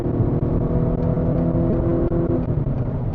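Acura RDX with a 10-speed automatic accelerating hard, its engine droning loud and steady from inside the cabin as it pulls, with no talk over it.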